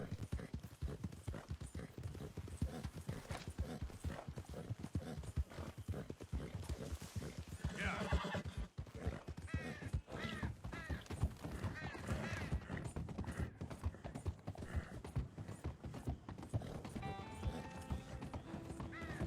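Horse hooves gallop in Red Dead Redemption 2, a fast, steady clip-clop that runs the whole time with occasional whinnies and neighs, under continuous game sound and a voice talking.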